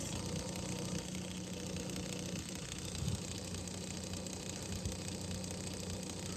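A Tamiya Grand Hauler RC truck gearbox motor runs steadily in low gear, a constant close whirring drone with mechanical vibration and no talk.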